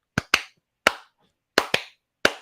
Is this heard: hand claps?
yes